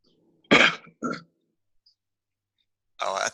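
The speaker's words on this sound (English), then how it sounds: "It's coughing." A person coughs indoors during a casual group conversation, giving two short bursts close together and a third after a pause, each fairly loud and close.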